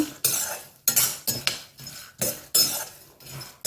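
A utensil scrapes and stirs roasted ingredients in a hot, heavy pan, with irregular clinking strokes and soft rustling, close and fairly loud.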